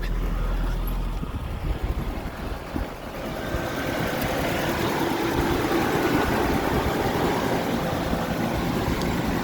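Steady low rumble of a 1989 Nissan D21 4x4 pickup engine idling, close and continuous, with a brief dip partway through and no talk over it.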